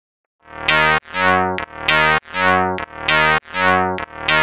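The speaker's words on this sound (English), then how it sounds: "just run-of-the-mill Logic distortion and hit the distortion" A simple drum fill run through Logic's stock distortion plugin: seven loud, punchy, heavily saturated hits in a steady rhythm. The fill stands alone with no talking.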